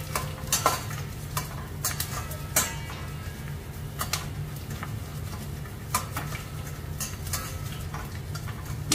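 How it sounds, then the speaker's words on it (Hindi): Khoa (mawa) made from ghee residue is stirred and roasted in a pan for barfi. A spoon scrapes and clinks against the pan in irregular close strokes over a soft sizzle, at a fairly quiet level. "तो ब्राउन होने तक इसे सेकें।"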